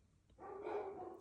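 Dogs barking indoors, agitated by someone building a trampoline nearby; a single sustained burst of barking, moderately close, rises after a short quiet moment and carries on alone.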